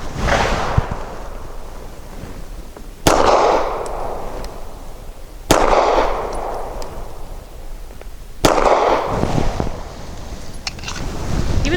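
Three loud, sharp pistol shots from a Walther Q4 SF firing Federal Syntech 147 grain rounds, evenly spaced a few seconds apart outdoors, each a sudden crack with a ringing tail over steady wind noise.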